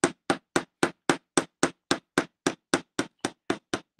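Steady hammer blows strike metal on a bench block while shaping a small eye of protection pendant, about fifteen sharp, evenly spaced taps in quick succession, close and loud with no talking.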